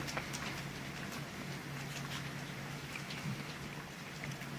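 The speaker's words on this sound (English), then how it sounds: "that's a heavy rain" Heavy rain falls on an orchard of Shropshire damson trees, a steady moderate patter of drops with scattered nearer splashes and a faint low hum underneath.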